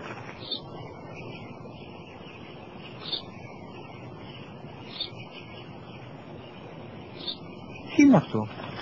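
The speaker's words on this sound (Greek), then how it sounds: "Ένα σπουργίτη." A sparrow gives faint, short chirps at a steady pace of about one every two seconds over a quiet background, with a brief louder rustle near the end.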